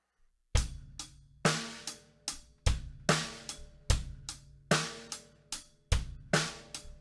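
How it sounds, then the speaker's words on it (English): A drum kit plays a steady syncopated eighth-note groove, with bass drum on beat one and the and of three and snare on two and four. The hits are close and punchy, each decaying quickly, and nobody speaks. "All right, so bass is on beat 1,"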